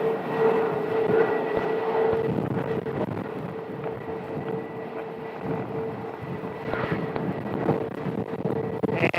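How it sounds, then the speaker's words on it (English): An American Airlines jet taxis for departure at Phoenix Sky Harbor, its engines giving a steady, broad whine and rumble at moderate distance, with wind buffeting the microphone throughout and no talk. "we have an American that's taxiing out for departure"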